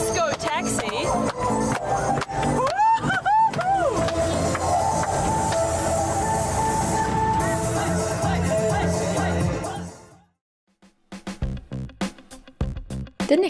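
Festive music, chatter and street noise fill a disco taxi ride through Ternate, loud and continuous, then cut abruptly to near silence with a few faint clicks and knocks at the end.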